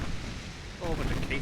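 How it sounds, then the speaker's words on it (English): Casemate guns fire on a battle cruiser in the naval game Ultimate Admiral Dreadnoughts, a dense, rumbling burst of gunfire filling the whole short moment, loud and continuous. "A whole bunch of casement guns."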